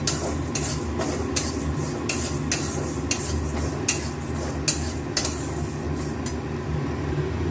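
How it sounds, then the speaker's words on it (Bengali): Mung dal dry-roasting in a kadai, with a spatula scraping and stirring it in a steady series of sharp clicks over a soft, continuous frying hiss, close and moderately loud. "মুগ ডালটা এবার কড়াইয়ে ভেজে নেব।"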